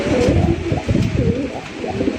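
Domestic pigeons at a pigeon sale coo close by in repeated low throaty rolls, several birds overlapping, with no talk.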